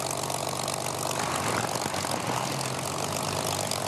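Aircraft engine starting up with a steady propeller-like drone and rumble, fairly close and loud, holding a constant engine note throughout with no talk.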